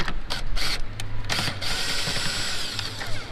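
A power drill backs out the 10 mm bolts holding a car's brake light during a JDM Astar LED install, giving loud, close whirring bursts that stop and restart over a few seconds.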